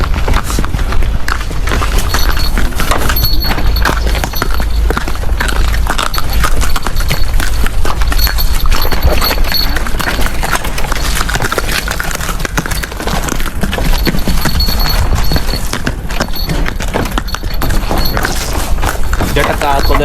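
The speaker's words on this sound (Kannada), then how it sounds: "ಜಟಕ ಕುದುರೆ ಹತ್ತಿ ಪೇಟೆಗೆ ಹೋಗಣ್ವಾ." Hooves of a horse pulling a jataka cart clip-clop steadily over 20 seconds amid loud, continuous road rumble and rattling, with people talking throughout.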